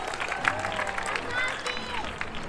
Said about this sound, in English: let's give Spike a round of applause one last time